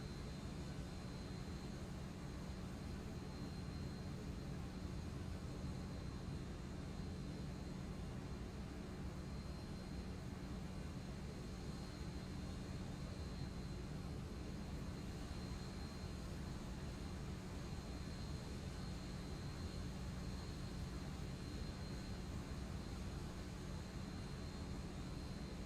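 Steady, continuous jet engine drone of a simulated Boeing 737-800 in X-Plane 12 taxiing out to the runway, a constant broadband rumble with a thin high whine holding level throughout, no voices.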